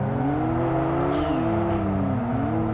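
A race car in the video game Kaido Racer launches hard, its engine droning loudly with rising and falling revving tones held steady throughout, with no talking.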